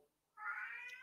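A cat gives a single drawn-out meow, thin and moderately loud, rising after a short quiet pause and holding to the end, with no talk over it.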